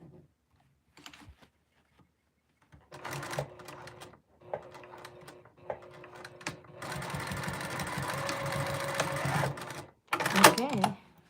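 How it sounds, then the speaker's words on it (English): Sewing machine stitching a dress sleeve in place, heard in short start-stop bursts and then a longer steady whirring run, with a brief fast burst at the end. "try to make some room so I can sew it"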